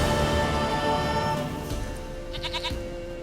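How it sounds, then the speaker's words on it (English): A goat in The Witcher 3 bleats in a few short quavering calls near the end, over a sustained musical background with no talk. "Goat of mine, dearest, sweetest goat."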